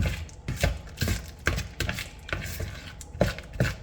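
A mushroom, Swiss and cream cheese mixture is stirred in a bowl, with repeated close scraping and thick clacking strokes at a steady, uneven rhythm and no talk.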